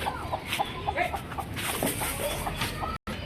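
Several Aseel chickens, a hen among them, cluck nearby in short, irregular bursts over a background of faint rustling.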